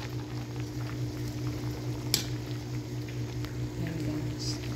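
Mixed vegetables sautéing in a pan make a soft, steady sizzle and bubbling, close but quiet, with a single sharp tap partway through.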